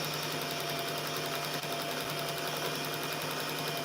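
Home sewing machine stitching flannel fabric, a steady fast mechanical whir running continuously at moderate level with no talking.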